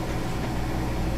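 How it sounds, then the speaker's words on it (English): A fan beside a doorway blows air-conditioned air into a room, a steady broadband whoosh that holds evenly throughout with no voices over it. "There's a fan right by my door, so it's blowing some AC in."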